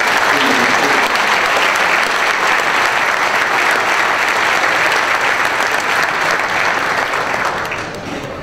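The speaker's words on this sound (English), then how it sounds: "Let's give all of them a round of applause." Loud, steady applause from a large audience at a city address, sustained throughout and tapering slightly at the end.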